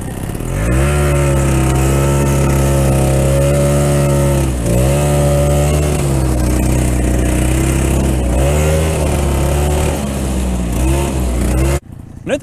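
A Terhi 10 boat engine drives hard over a ditch, its loud, steady motor drone with small rises and dips in pitch going on for about twelve seconds before cutting off suddenly near the end.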